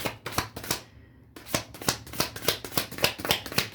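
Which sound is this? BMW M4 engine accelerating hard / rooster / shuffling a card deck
shuffling a card deck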